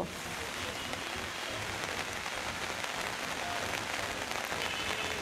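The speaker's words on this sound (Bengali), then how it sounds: "গত 1 ঘন্টা ধরে মুষলধারে বর্ষণ হচ্ছে বন্দরনগরীতে" A heavy downpour pours over Chattogram city streets, a dense, loud, unbroken roar of rain on hard surfaces that holds steady throughout.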